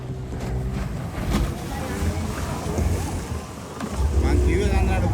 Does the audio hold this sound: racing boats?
yes